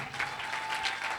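A church congregation applauds for Father's Day, a dense, steady wash of clapping throughout this short moment with no voices above it.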